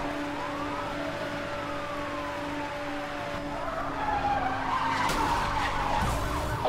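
In Need for Speed: Hot Pursuit, a car accelerates and skids with squealing tires during a police chase, as wailing sirens sweep up and down and engine noise builds toward the end.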